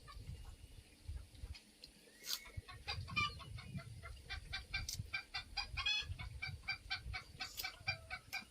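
A flock of chickens clucking and chattering continuously, rapid repeated calls at moderate distance, with a rooster-like call rising briefly among them.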